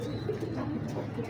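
A pigeon coos softly nearby in a brief, low, rolling call.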